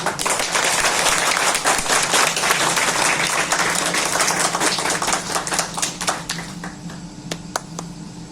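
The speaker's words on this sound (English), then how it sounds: "A big clap, please." An audience at a farewell party breaks into dense, lively applause, many hands clapping loudly together and then gradually thinning out to a few scattered claps.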